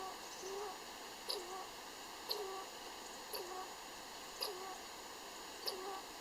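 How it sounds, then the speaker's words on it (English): Squirrels in the woods give a series of five sharp chirping calls, spaced about a second apart, over a faint steady outdoor background. "The squirrels sound like I'm intruding on their property"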